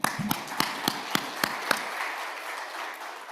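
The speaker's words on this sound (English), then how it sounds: "a round of applause for him" Audience applause at a conference closing ceremony, a few sharp distinct claps in a slow rhythm over the first couple of seconds, then a softer diffuse patter that fades toward the end.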